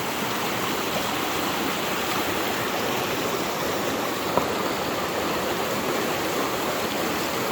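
Steady, broadband rushing of creek water flowing over a gold sluice box as it is rinsed off at a New Zealand creek, continuous and close with no voices.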